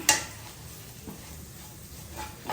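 A spoon scrapes and stirs Kashmiri chilli powder through beef masala in a pan, giving a sharp clink at the start and soft, quiet scraping and faint sizzling after it, with no talk.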